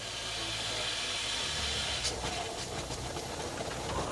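A steam-powered motorcycle with no electronics hisses steadily and loudly nearby, a continuous broadband rush of escaping steam with a few sharper bursts partway through and no talking.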